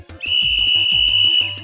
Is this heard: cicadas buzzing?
no